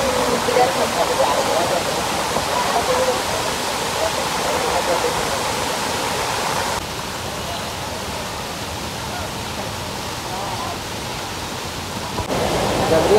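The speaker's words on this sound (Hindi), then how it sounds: "यहाँ से ही पूरा पानी की आवाज़ आती है।" A waterfall at the Jatmai temple roars as a steady, dense rush of water, constant and close, with a slight drop in level partway through.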